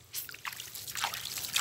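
Water poured over hardened former rice-paddy soil in an organic red ginger bed, a soft trickling and splashing that swells after a quiet start and runs steadily, faint and close.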